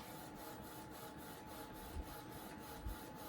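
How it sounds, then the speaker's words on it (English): A Sawgrass 500 sublimation printer runs with fresh ink, making a quiet, regular mechanical whir from the carriage moving back and forth, with two soft low thumps partway through. "it's taking a long time to print."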